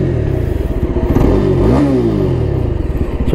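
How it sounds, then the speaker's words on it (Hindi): A Yezdi Adventure motorcycle's exhaust burbles loudly up close, rising in a brief rev and settling back to a throbbing idle. "एंड में एक बार आप इसका एग्जॉस्ट नोट सुनिए।"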